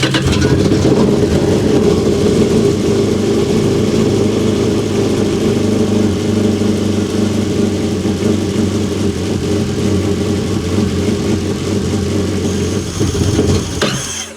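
A Yamaha WaveRunner personal watercraft engine runs loudly and steadily with a deep, rumbling drone while being fogged for winterizing, holding even throughout before cutting out abruptly near the end.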